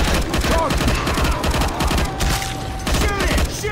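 Rapid gunfire in the zombie shooter Left 4 Dead 2, dense overlapping bursts of shots that run steadily through the whole stretch, mixed with other game noise and excited voices.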